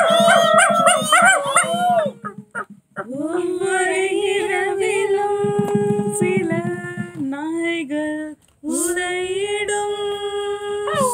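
Dogs howl at night in long, wavering, overlapping cries, several voices rising and falling together, loud and close, with brief pauses between bursts.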